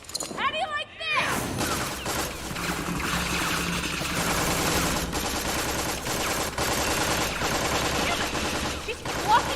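Gunshots in the Borderlands video game ring out as a dense, continuous barrage of rapid fire blended with busy game effects. The shooting runs steadily throughout at a fairly loud level.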